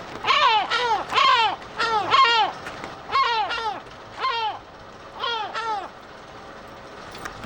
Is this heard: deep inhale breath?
no